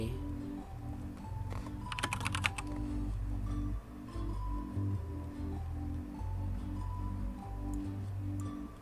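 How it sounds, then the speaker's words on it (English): Typing on a computer keyboard, a steady run of soft, rhythmic key clicks, fairly quiet and close, with a brief cluster of sharper taps partway through. "I don't know if I'm typing it in wrong or something."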